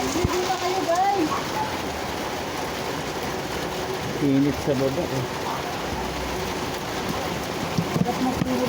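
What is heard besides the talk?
heavy rain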